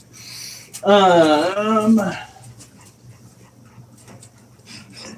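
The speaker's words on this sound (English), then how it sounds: "Puppies, I hear that you're hungry." Hungry puppies whimper in a short, high, wavering whine up close, followed by faint panting and small rustles.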